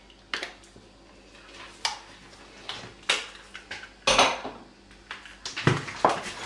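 Several soft clattering, scraping knocks of utensils against a pot as blended cheesecake batter is transferred into it, spaced irregularly, close by with no talking.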